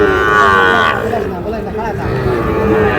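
A single long, loud moo from nearby cattle at a busy Dinajpur livestock market where Sahiwal bulls and calves are sold, deep and sustained with a rising, wavering pitch.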